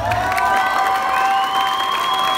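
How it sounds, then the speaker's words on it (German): Wedding guests cheering and clapping during a bride-and-groom dance battle at a summer celebration, a steady crowd roar with tonal music-like lines running through it. "Applaus, Applaus!"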